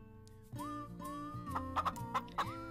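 Game-world chickens in the cooking game Mary le Chef cluck in short, bright bursts over steady background music, several quick calls clustered toward the end.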